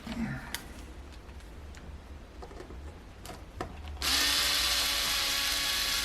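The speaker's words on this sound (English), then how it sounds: "Screwdriver." A power screwdriver drives screws into a Les Paul guitar during a pickup rewiring job; faint clicks and handling noises come first, then the tool whirs loudly and steadily to the end.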